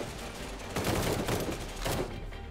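Squads firing weapons in the zombie warfare strategy game Cepheus Protocol, several bursts of gunfire crackling over a noisy background, moderately loud, with a stronger burst near the start and another toward the end.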